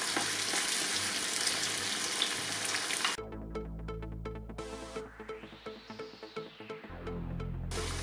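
Salted vegetables fry in a pan for a green bean stew, giving a loud, dense sizzle that drops after a few seconds into softer frying broken by the scrape and clatter of stirring.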